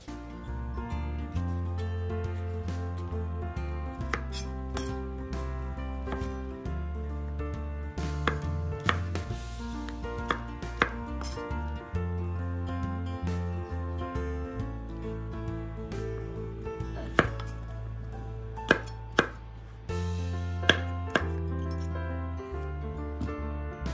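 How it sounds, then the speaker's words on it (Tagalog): A knife cuts and peels a broccoli stalk, producing sparse, light clicks and scrapes that sit under loud, continuous music. "yung tangkay kasama ito sa ating lulutuin o babalatan lang natin itong pinaka-stalk niya"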